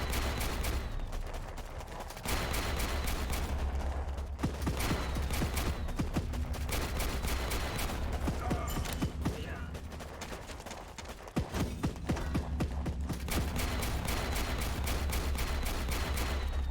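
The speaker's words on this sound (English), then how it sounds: "I'll show you how OP these machine gun guys are." Machine-gun troops in the strategy game Warpips fire in dense, rapid bursts of crackling gunfire that continue almost without a break, loud throughout with only a few short pauses.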